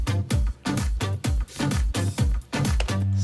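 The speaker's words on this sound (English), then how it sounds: "a new synth is coming in, this one here, which is pretty much the signature sound of the following section." Rhythmic electronic synth pattern from a studio music production, pulsing in repeated loud bursts with deep bass hits at a steady tempo, played alone without talk.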